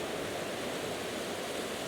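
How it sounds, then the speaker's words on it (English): Small waterfall tumbling down a fellside in the Lake District, a steady broadband rush of falling water, close and continuous with no voices. "Not bad little waterfall."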